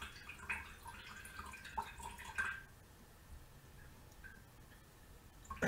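Apple cider vinegar drips and trickles through a strainer into a jug, a soft patter for the first few seconds that then thins to faint, sparse drops in a quiet kitchen.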